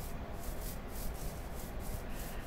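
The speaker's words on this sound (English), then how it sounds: "so I got my air conditioner running." A steady, faint mechanical whoosh hums evenly in the background, like an air conditioner running, with no other sounds.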